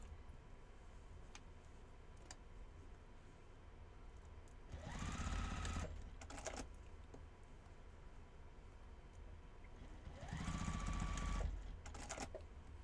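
Sewing machine tacking a sundress, two short bursts of fast stitching whir about five seconds apart over a quiet background.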